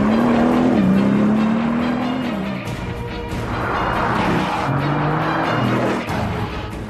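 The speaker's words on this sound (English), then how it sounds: "you can be sure to hear the unique sound of a Veyron before you see it" A Bugatti Veyron sports car with a 16-cylinder engine drones loudly and steadily, its pitch shifting as it moves past with some tyre noise.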